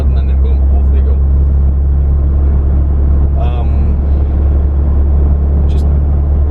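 A Toyota Land Cruiser HDJ81V with a 4.2L 1HD-T turbo diesel cruises at about 70 km/h and 1500 RPM, a steady low engine drone and road rumble inside the cabin with a few faint brief voices.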